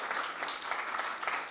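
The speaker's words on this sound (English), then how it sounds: "Mimi, can we have a round of applause for Kriti?" An audience at an event featuring actress Kriti Sanon applauds, a dense wash of many hands clapping at steady moderate loudness for a brief moment.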